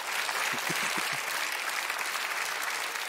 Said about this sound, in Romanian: vă rog, aplaudați-mă